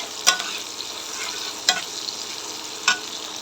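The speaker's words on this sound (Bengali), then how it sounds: "এখন হচ্ছে ভালোভাবে নেড়ে নেব।" Soybean oil being stirred in a pan, a steady soft sizzle broken by three sharp utensil scrapes spaced about 1.4 seconds apart, close and moderately quiet with no talking.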